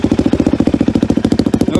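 A Yamaha YZ426 dirt bike engine idles close by in a rapid, even thumping pulse that holds steady and loud throughout.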